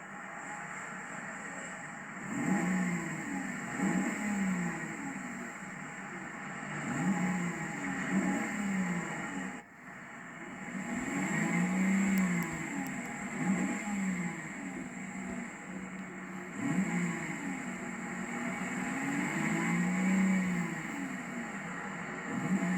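The V8 engine of a 1997 Mercedes-Benz S500 idles and is revved in repeated rising and falling blips, its exhaust rumbling close and fairly loud with brief dips between revs.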